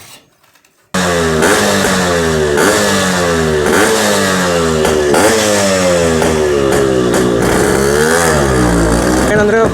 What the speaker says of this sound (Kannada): ಇವಾಗ ಸದ್ಯಕ್ಕೆ ಮಫ್ಲರ್ ಒಂದು ಚೇಂಜ್ ಮಾಡ್ಕೊಂಡು ಇವಾಗ ಸದ್ಯಕ್ಕೆ ಇವತ್ತಿಗೆ ಮಾತ್ರ ಸ್ವಲ್ಪ ಸೌಂಡ್ ಬರಲಿ ಅಂತ